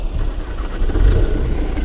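A Ford Mondeo engine running at idle during brake caliper work, a steady low rumble close by that swells slightly midway, with no speech over it.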